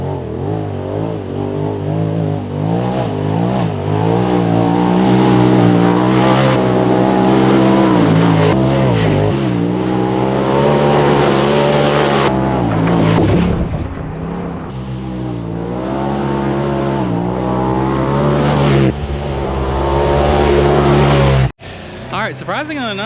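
Polaris RZR Turbo R side-by-side on 37-inch tires driving muddy trails, its turbo engine droning and revving loudly and steadily up close through most of the stretch, with a sudden cut near the end.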